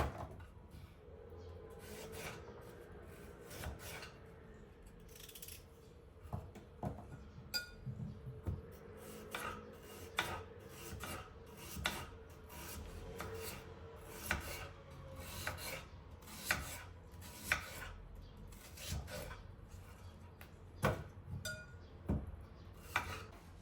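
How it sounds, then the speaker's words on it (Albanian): Potatoes being sliced thin with a knife for a traditional Albanian potato and stuffed pepper bake, a series of irregular scraping and chopping strokes against a board, close and moderately loud, with pauses between cuts. "Këto gjithë patatet I prejmë në feta të holla."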